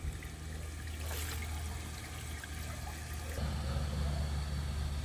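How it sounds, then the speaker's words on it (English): Water poured into the bowl of a 1963 blue American Standard Cadet toilet, a steady, faint splashing trickle that swells slightly toward the end, no talk. "I'm going to add some water, straighten it back out, and try it again."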